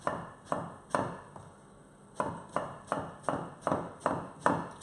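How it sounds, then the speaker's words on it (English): Knife chopping aubergine into slices on a cutting board, a run of crisp, evenly spaced thuds, about ten close strikes with a brief pause partway through. "And then we're just going to chop that into maybe 1 centimetre slices"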